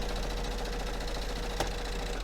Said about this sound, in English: Let's sew these rows.